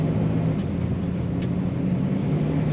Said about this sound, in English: This car starts and idles nicely,